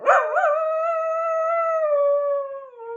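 A domestic dog lets out a long, sustained howl at close range, rising briefly at the start and then holding a steady wavering tone for about three seconds before trailing off.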